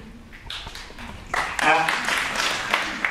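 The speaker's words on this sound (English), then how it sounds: "you didn't need to applaud on that" Audience applause at a university teach-in in Berkeley, scattered claps that swell into a brief burst of clapping mixed with talk and room noise at moderate distance.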